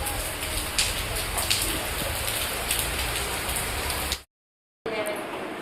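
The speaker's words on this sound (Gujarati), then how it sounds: "ઓહું વરસાદ આવ્યો" Steady rain hisses and patters densely on surfaces nearby at an outdoor fair, a continuous wash of sound that cuts out briefly, then resumes.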